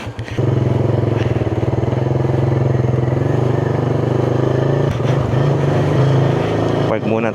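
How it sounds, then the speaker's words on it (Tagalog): Suzuki Raider motorcycle engine running close by with a steady, throbbing idle and a slight rev change near the end, while a voice speaks over it. "Ang aking Suzuki Raider."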